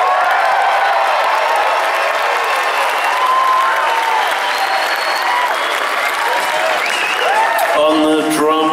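A live concert crowd at the Colosseum at Caesars Palace in Las Vegas applauds and cheers in a dense, sustained roar with scattered whoops and whistles, and a voice speaks near the end.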